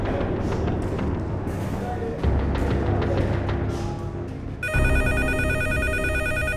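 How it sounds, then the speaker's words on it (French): A telephone rings loudly indoors in a drama scene, its bright electronic trill starting abruptly partway through after a stretch of background music and noise. "Le téléphone sonne."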